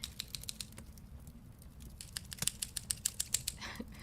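Tiny scissors snip quickly in a steady series of light, crisp clicks, close up and quiet.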